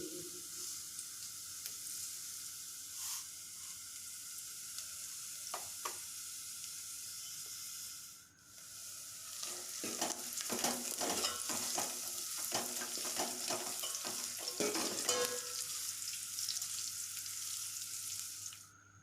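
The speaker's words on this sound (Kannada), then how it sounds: "ಸ್ವಲ್ಪ ಒಗ್ಗರಣೆ ಹಾಕೊಳ್ಳೋಣ. ಒಣಮೆಣಸಿನ್ಕಾಯಿ, ಈರುಳ್ಳಿ, ಸ್ವಲ್ಪ ಕರಿಬೇವು, ಸಾಸಿವೆ ಇದ್ರೆ ಸಾಸಿವೆ, ಜೀರಿಗೆ ಇದ್ರೆ ಜೀರಿಗೆ," Dry chilies, onion, curry leaves and mustard seeds sizzle and crackle in hot oil for a tadka, with steady frying hiss and occasional stirring scrapes that grow louder and busier in the second half.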